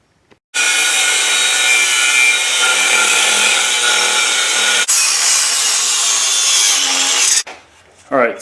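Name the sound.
cutting a metal piece for a Jeep TJ transmission crossmember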